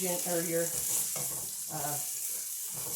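Fresh minced garlic from a jar sizzles in a frying pan with a steady hiss, while a voice talks over it intermittently.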